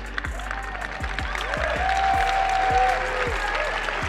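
Moderate audience clapping at a VCon talk, a steady patter of hands that never builds to a roar, with faint voices mixed in.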